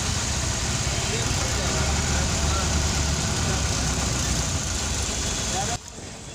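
Vehicles idling in a dense traffic jam near Simaria Ghat amid a crowd, a steady low engine rumble with noisy outdoor clatter and chatter, cutting down abruptly near the end.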